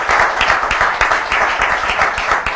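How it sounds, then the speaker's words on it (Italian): Audience applause at a Master Cross motocross event in Fae' di Oderzo; loud, steady clapping from a nearby crowd across the whole short stretch, with no talk over it. "Fagli un applauso perché veramente non è impegnato di più."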